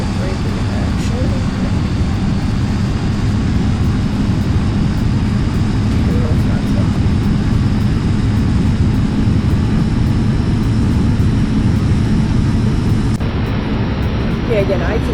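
A Thranda Cessna 208 Caravan turboprop taxis across grass in the X-Plane 11 flight simulator, its engine a steady, loud, unbroken drone that holds even for the whole stretch.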